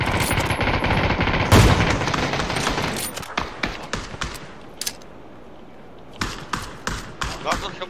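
A sniper rifle in a battle royale game fires one sharp, loud crack, surrounded by scattered shots and thumping footsteps, while players' voices talk over the action.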